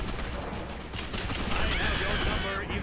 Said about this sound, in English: Okay, this gun's a lot of recoil.